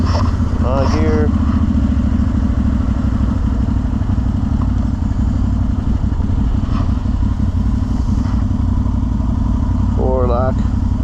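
A 1000 cc ATV, a 2023 CFmoto Cforce 1000 or 2025 Outlander 1000 XMR, revs while riding off-road, giving a loud, continuous engine drone with rattling clatter throughout and brief voices breaking through.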